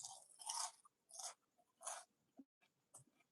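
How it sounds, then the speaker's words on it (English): A dried snack crunches during close chewing, in several sharp bursts separated by brief pauses, with no talking. "You hear the crunch?"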